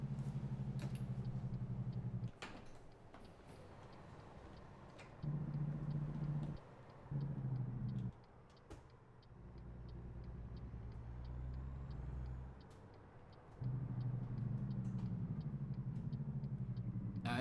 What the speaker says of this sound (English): as you guys can hear, I am using the Jake brake